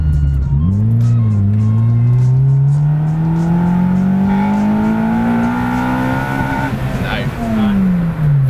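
A Honda Civic Type R EP3 pulls away and accelerates hard in third gear, its engine note climbing steadily in pitch and staying loud and close throughout, with a brief shift-like dip near the end.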